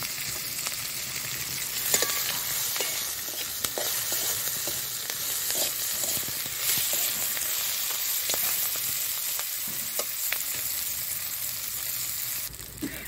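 Chopped onion fries in oil with dried red chilli, whole garam masala, cumin, bay leaf and green chilli, a continuous close crackling sizzle dotted with stirring clicks and scrapes.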